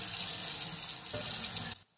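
Tap water runs steadily into a large metal pot in a sink, a close hiss that stops abruptly near the end.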